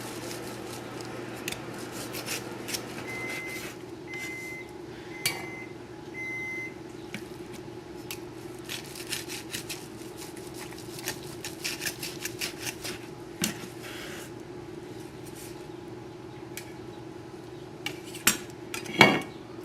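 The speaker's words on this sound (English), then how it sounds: "Next thing we'll do is just slice up the brisket." A knife slicing braised beef brisket against the grain on a board, with soft repeated scraping and cutting strokes and light clinks of cutlery, fairly close over a low steady hum, ending in a couple of sharper knocks.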